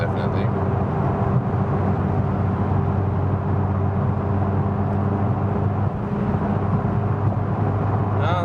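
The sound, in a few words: McLaren driving on rough Autobahn road, road noise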